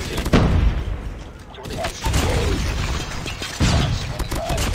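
Deep booms in a Call of Duty video game, one heavy blast near the start and another later among gunfire, with a voice talking in between.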